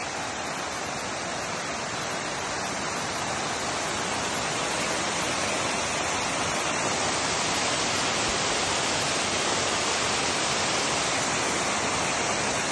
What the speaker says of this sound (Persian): دل بیابون یه همچین کوهی وجود داشته باشه که این همه آب بیاد